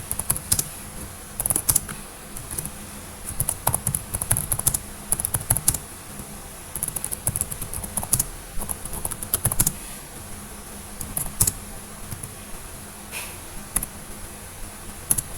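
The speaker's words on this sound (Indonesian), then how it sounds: "Jadi kita ketikkan" Fingers clatter steadily across a computer keyboard while code is entered, with dense bursts of close, crisp key clicks broken by short pauses, continuing alone for about fifteen seconds.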